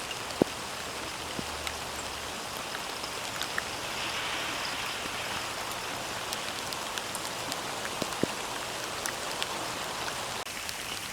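Steady rain pours down on plants behind a shop during a storm, a soft, even hiss throughout with a few louder drops and splashes standing out.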